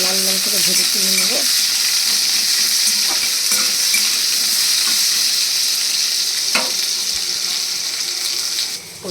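Potatoes fry in hot oil toward a reddish brown, a loud, dense and constant sizzle close by with a few light utensil knocks, easing slightly at the end.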